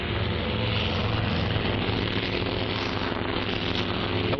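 Grumman Hellcat fighter plane flying in, a steady, loud propeller engine drone that holds even throughout without a break, with no voices over it.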